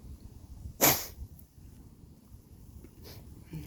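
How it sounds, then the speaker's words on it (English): A single sharp human sneeze bursts out near the start, loud and close, followed by quieter sniffing and faint breathy rustle outdoors. "A lot of sneezing, a lot of blowing."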